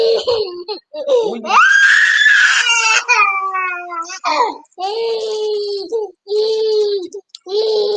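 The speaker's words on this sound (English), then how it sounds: "How you gonna scream at home?" A young boy screams and wails loudly up close, with long high-pitched shrieks followed by sobbing cries in a continuous, distressed outburst.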